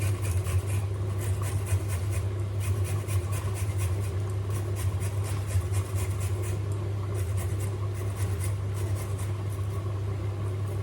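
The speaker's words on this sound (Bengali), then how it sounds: "আদাটা একটু এর সঙ্গে গ্রেট করে নিই" Fresh peeled ginger rubbed on a grater with rapid, rhythmic rasping strokes, close and steady over a constant low hum from a stove or appliance.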